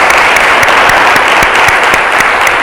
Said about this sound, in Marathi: या आपल्या प्रभूला आपण टाळ्या वाजवून त्याचं स्वागत पुन्हा एकदा करूया.